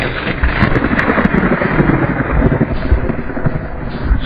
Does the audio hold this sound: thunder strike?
yes